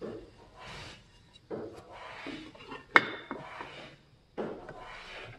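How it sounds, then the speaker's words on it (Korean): A hand saw cuts through wood for a drawer, giving rasping strokes in uneven bursts with brief pauses and a sharp knock midway, close and moderately loud. "선이 다 그었으니까 이제 톱질합니다."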